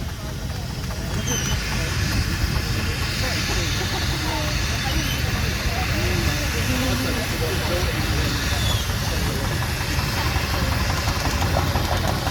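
A half-size scale steam traction engine runs past with a steady, loud chugging engine rumble and hiss that holds for the whole stretch, while someone talks over it.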